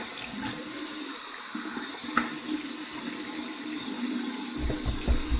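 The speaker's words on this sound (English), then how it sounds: "Here's my warm water rinse." Warm water running from a bathroom tap for a rinse during shaving, a steady splashing flow with occasional clinks, growing fuller and louder near the end.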